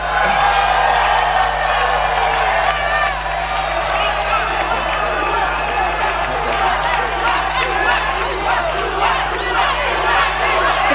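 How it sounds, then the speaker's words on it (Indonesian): A loud crowd at a 2017 Jakarta regional election debate cheers, whoops and claps for the candidates, a dense continuous roar of shouting supporters with scattered applause throughout. "saya persilahkan tepuk tangan untuk para paslon"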